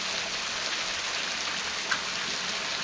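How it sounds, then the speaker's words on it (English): Heavy rain from a band of Tropical Storm Barry in Louisiana, a steady, even hiss of downpour on surfaces, constant and fairly close with no voices. "I wanted you to know that the rain has started"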